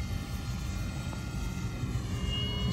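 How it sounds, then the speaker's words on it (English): An FMS P-47 Razorback 1500mm RC model warbird in flight, its electric motor and propeller making a continuous buzzing drone with a steady whine, fairly close and unbroken. "Let's try to see how fast this plane is."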